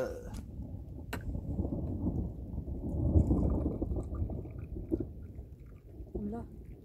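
Rain begins to fall in open desert country as thunder rolls, a deep low rumble that swells and fades under a light patter of first drops, with a few sharp taps standing out.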